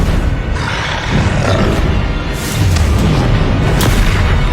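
Confringo fire-spell blasts in the Hogwarts Legacy game on PS5, heard as loud, continuous booming and roaring with several sharp bursts layered over one another in the middle of a spell-casting battle.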